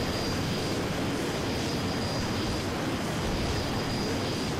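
Orca aircraft flying in the video game Renegade X, a steady airy engine roar with a thin whine, continuous and even at moderate volume with no talk.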